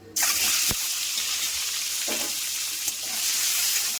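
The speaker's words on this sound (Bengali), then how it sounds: "একই তেলে দিয়ে দিচ্ছি চারটে ডিম" Four eggs dropped into hot oil in a wok begin frying with a sudden bright, steady hiss that stays loud and close, broken by a few faint clinks.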